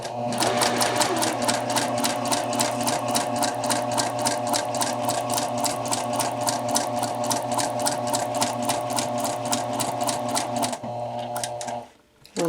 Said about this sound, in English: and then I can sew off.